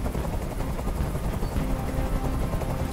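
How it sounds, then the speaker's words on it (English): Helicopter in the video game Detroit: Become Human, a steady, loud rotor and engine roar filling the whole span without pause, with a dense, noisy low rumble and no speech. "Tell that helicopter to get out of here."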